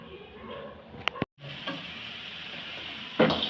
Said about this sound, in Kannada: ಅದು ಕಾದ ನಂತರ ಅದಕ್ಕೆ ಆಗಲೇ ಹೆಚ್ಚಿಟ್ಕೊಂಡಂತಹ ಈರುಳ್ಳಿ, ಮೆಣಸಿನ್ಕಾಯಿ ಹಾಗೆ ಕರ್ಬೇವಿನ ಸೊಪ್ಪು ಹಾಕ್ಬಿಟ್ಟು ಚೆನ್ನಾಗಿ ರೋಸ್ಟ್ ಮಾಡ್ಕೊಬೇಕು